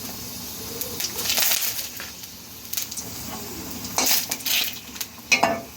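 Five-spice and a couple of bay leaves sizzle in hot oil for Bengali dal, a steady frying hiss broken by bursts of spattering and a few metal utensil scrapes, with no voices.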